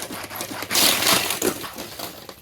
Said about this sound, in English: He's crashed out here at Texas Motor Speedway.